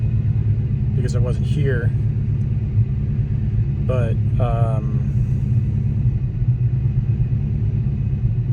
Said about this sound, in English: I just got in and turned the car on, and it started right up